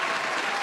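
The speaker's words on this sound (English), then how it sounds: "I'm going to give him an applause." A short burst of dense clapping from a room of people at a post-game NFL press conference, steady and fairly loud.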